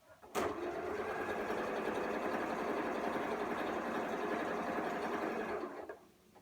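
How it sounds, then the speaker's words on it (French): A sewing machine runs steadily for about five seconds, stitching a seam in patchwork Nine Patch quilt blocks, with a loud, continuous mechanical whir that starts abruptly and stops cleanly, and no talking over it. "face contre face, on aligne bien comme il faut et hop, une ligne de couture"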